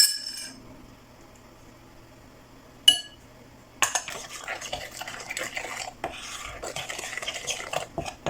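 A utensil stirs pumpkin batter with flour and baking powder in a bowl, near and soft, with scraping and clinking against the sides after a single sharp clink, no talk over it.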